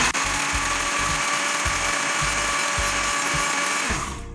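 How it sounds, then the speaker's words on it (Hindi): Electric blender running steadily at close range, whirring as it mixes oil and egg white into homemade garlic mayonnaise, with a loud continuous motor drone, rhythmic low thumps of the churning mix, and the motor winding down at the very end. "अब हम फिर इसमें ऑयल डालेंगे और फिर इसको ब्लेंड कर देंगे"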